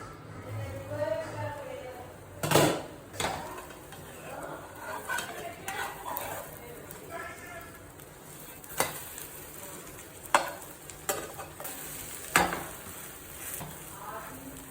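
A masala omelette with aloo bhujia cooks on low flame in a pan, a low sizzle with scattered sharp utensil clatters and knocks, while a voice talks intermittently in the background.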